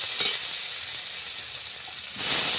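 Chopped onion frying in a pan with chilli and capsicum for a rohu fish curry, a steady close sizzle throughout that swells louder near the end.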